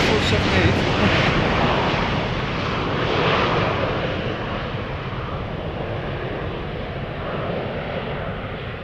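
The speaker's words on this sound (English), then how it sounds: "Although it was a pretty takeoff, rotating right where we were standing." A Boeing 747-8 jet airliner takes off at Schiphol Airport, rotating close by. A loud, broad engine roar fills the air and slowly recedes over several seconds.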